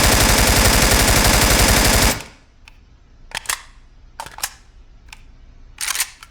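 AK rifle fire in a video game: a loud, unbroken automatic burst for about two seconds, then several shorter scattered shots and bursts with quiet gaps between them.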